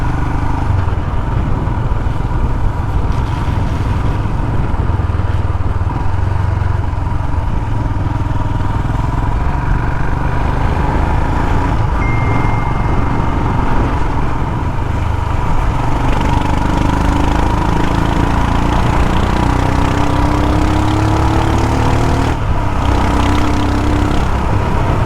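A Royal Enfield Himalayan motorcycle rides along narrow country back lanes, its single-cylinder engine droning steadily and loudly throughout with continuous road and wind rumble, no talk.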